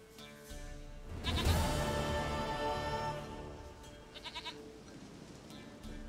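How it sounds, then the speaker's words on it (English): A goat bleating in the video game Witcher 3, a long wavering bleat rising over steady game ambience, then a short quieter stuttering bleat near the end. "Goat of mine, dearest,"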